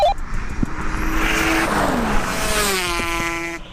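Toyota Supra with a 2JZ engine racing an Aprilia RS 250 two-stroke motorbike, a loud engine roar sweeping past with rising and shifting pitch over a few seconds.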